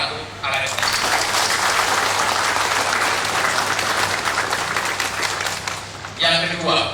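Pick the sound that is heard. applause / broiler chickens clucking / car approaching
applause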